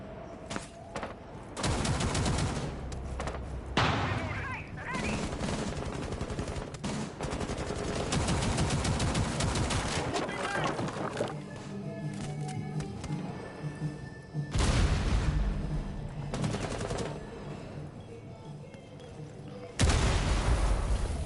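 Heavy gunfire in a competitive tactical shooter match, including a Cav shotgun, heard as dense sustained bursts of shots and booms, with a few short breaks and a commentator talking underneath.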